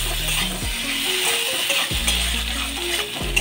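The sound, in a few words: stirring spices in a pan for pumpkin curry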